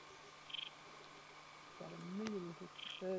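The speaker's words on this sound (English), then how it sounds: "Got a million little birds in that tree over there." Small birds call from a tree in a quiet forest near a logging landing. Faint, short bursts of high chirping come and go, with some lower cooing calls under a soft outdoor background.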